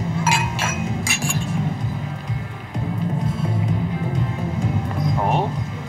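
Glasses clink together in a toast, a few bright ringing taps near the start and another near the end, over a steady murmur of voices and background music.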